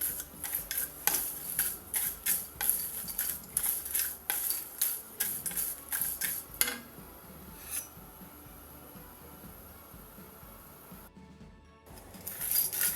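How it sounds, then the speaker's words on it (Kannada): Dry fish roasting in a pan over medium flame gives quick scraping, clinking stirs in a steady rhythm for several seconds, then a quieter stretch of soft background noise with no talk. "ಈಗ ಇಲ್ಲಿ ನೋಡಿ, ನಮ್ಮ ಮೀನು ಡ್ರೈ ರೋಸ್ಟ್ ಆಗಿದೆ."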